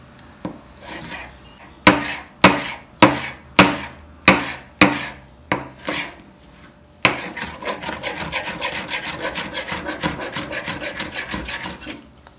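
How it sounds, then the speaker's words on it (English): A knife chops a tomato finely on a board, first in about nine separate, evenly spaced chops, then in a fast, steady run of rapid close cuts, near and clear with no talking. "Now take one tomato and chop it finely like the onion."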